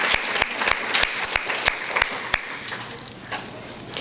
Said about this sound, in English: let's give a big round of applause to Kristen, Anthony